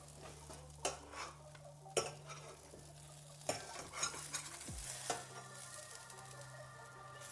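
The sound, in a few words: quesadilla grilling in a frying pan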